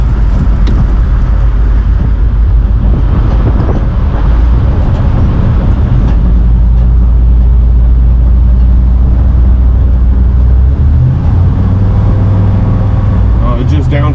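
A Chevy OBS race truck drives along with a loud, steady engine and road roar, its pitch shifting as gears change near the end.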